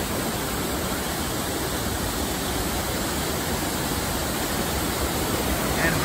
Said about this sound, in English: you can see where that water right there is coming down through there